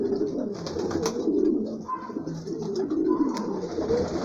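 Homing pigeons coo in repeated low throaty bursts, close and clear, with a soft rustle in between and no talking.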